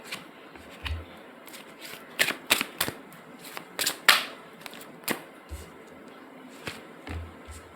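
Tarot cards are drawn and handled in a card reading, giving a series of sharp, close snaps and flicks at irregular intervals with soft shuffling between them, with no talk.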